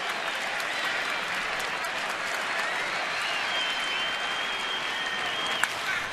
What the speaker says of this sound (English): Lombardozzi's 2-run homer in this inning really woke up this crowd.